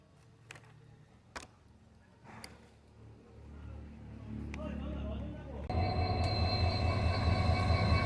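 Diesel-engine train rolling past during a motorbike ride, a low rumble building steadily and turning louder and denser with rhythmic wheel clatter in the last few seconds.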